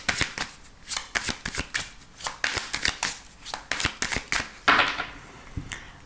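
Oracle cards are shuffled by hand in a steady rhythm of crisp riffling bursts, close and clear, about a dozen in sequence with a longer flutter near the end; no talking.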